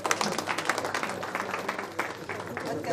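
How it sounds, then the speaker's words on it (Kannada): An audience claps loudly at a lamp-lighting inauguration held with the Kumbara community, a continuous dense patter of many hands with a voice speaking over it. "ಎಲ್ಲರೂ ಜೋರಾಗಿ ಚಪ್ಪಾಳೆಯೊಂದಿಗೆ"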